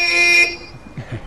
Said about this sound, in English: Can you just give us a quick beep of that horn there?